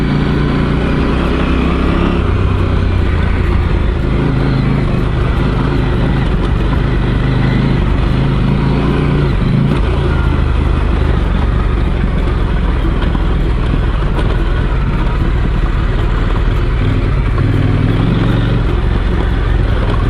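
A trail motorcycle in second gear climbs a rocky, slippery track in Sundown National Park. The engine holds a constant, near drone for the whole stretch, mixed with rough rumbling and no voices.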